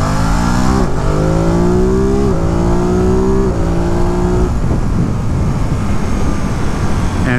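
A 2022 Ducati Monster Plus motorcycle accelerating hard on a long country ride, its engine rising through several gears in loud, close pulls, each climb ending in a brief dip at the shift, with steady wind roar underneath.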